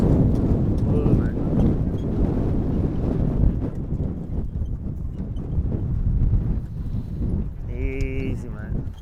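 Horse hooves clip-clop steadily over ground on a driving day at Invercargill, a dense rumbling patter under wind noise, with a brief call or whinny near the end.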